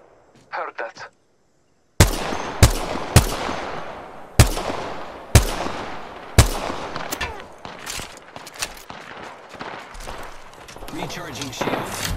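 Gunfire in Apex Legends, a burst of loud, sharp shots spaced irregularly, some in quick clusters, following a short stretch of quiet at the start, with game sounds filling the gaps.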